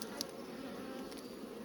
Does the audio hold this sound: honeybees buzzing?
yes